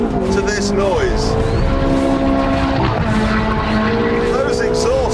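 A Ferrari F430 engine and exhaust roars loudly and continuously, its pitch rising and falling through gear changes, close and dominant throughout.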